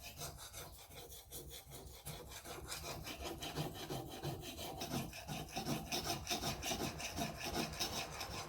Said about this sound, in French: L'affûtage à la pierre japonaise, d'un grain qui monte jusqu'à 6000